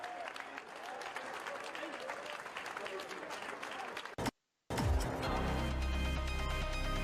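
An outdoor crowd in Chaumont applauds the Olympic flame torchbearers, a steady wash of clapping and crowd noise. It cuts to a brief silence, then returns with a different background sound.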